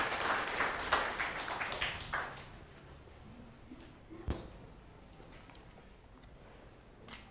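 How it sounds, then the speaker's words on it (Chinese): A church congregation at a Sunday service of the Presbyterian Church in Taiwan, Lanyang Church, applauds: a dense burst of clapping for about two seconds that thins out and gives way to a quiet room, with one sharp knock later. "咱搁一届鼓掌"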